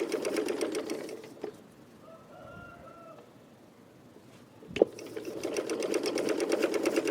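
Sewing machine stitching a printed yoke, a fast steady motor-driven needle hum near and loud, pausing for a few seconds in the middle before resuming.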